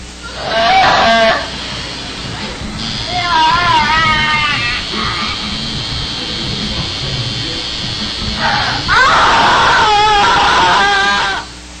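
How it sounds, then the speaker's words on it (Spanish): People getting tattooed scream and yell in pain, loud and harsh, in long wavering cries with a few sharper bursts near the start and end. "Lo gritan algunas personas al momento de tatuarse."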